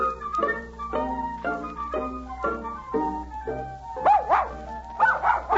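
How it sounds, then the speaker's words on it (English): A dog barks in a radio drama while his owner strides across the fields, a steady run of about eight close, clear barks followed by higher yips and whines, alone without talk. "Johannes is striding across the fields talking to his dog."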